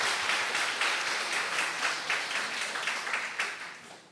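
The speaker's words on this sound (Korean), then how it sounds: "박수 한번 치도록 하십시다" Church congregation in Busan applauding together at a gathering, a steady dense wash of many hands clapping that holds evenly for several seconds and then tapers slightly at the end.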